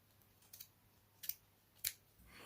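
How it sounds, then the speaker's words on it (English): Scissors cut around a walnut shell in a craft session: three short, crisp snips at uneven intervals, close and quiet, with no voices. "I'm just sticking it on the shell and then cutting around it"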